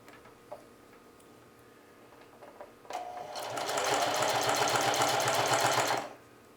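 A sewing machine zigzag stitching a jeans pocket at 1 mm stitch length and width runs steadily and loudly at close range for about three seconds, a fast rhythmic mechanical whirr that stops abruptly, preceded by quieter handling.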